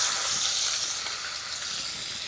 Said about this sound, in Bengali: ওই তেলে এই মশলাটা ভেজে নেব।